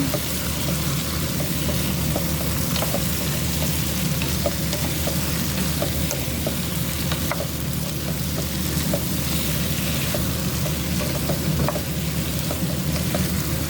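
Diced potatoes and carrots stirred together in a hot oiled pan, a steady continuous sizzle with small scraping ticks from the utensil running throughout, close and even, no voices.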